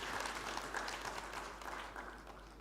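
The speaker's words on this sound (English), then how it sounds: "Let's give them a round of applause" Audience at a public service commissions general assembly applauding, a faint, steady wash of clapping from a distant crowd.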